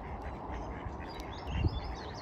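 A brief duck quack stands out faintly near the end over a low, steady outdoor background by water with ducks and geese.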